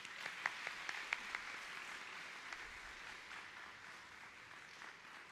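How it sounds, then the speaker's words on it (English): Applause from a choral festival audience, faint and distant, with a few sharper individual claps standing out early before the clapping thins into a soft, steady patter. "Let us give them a nice round of applause."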